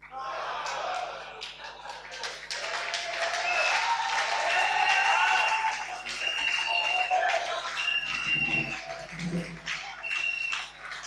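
Church congregation at a Pentecost service applauding, scattered clapping building and continuing for several seconds at moderate distance, with faint voices and a brief low rumble near the end.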